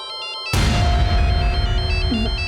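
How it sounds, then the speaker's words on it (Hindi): An incoming-call ringtone on a phone, a repeating melodic ring starting softly, then a loud abrupt burst of noise that masks it while the tones carry on underneath. "अरे, ये मीनल को किसका फोन आ गया?"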